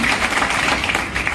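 Applause from a gathered crowd at a constituency event in Tuni mandal, a steady, dense clapping wash that continues evenly throughout without pause.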